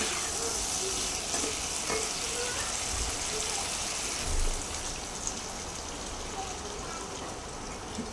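Vegetables sautéing in a pan at home, a steady loud sizzle with occasional stirring clatter, and a voice talking over it.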